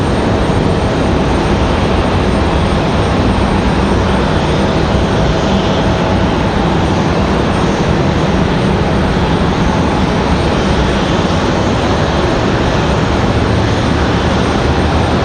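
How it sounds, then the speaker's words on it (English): A United Boeing 737-700 jet airliner arriving from Chicago roars past at close range, a loud, dense, unbroken engine rush that holds steady throughout. "Comes our flight from Chicago. This is the 737-700."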